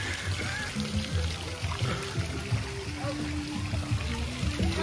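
Water pours and splashes at Universal's Volcano Bay waterpark, a steady close rushing stream with a low churning rumble that runs throughout.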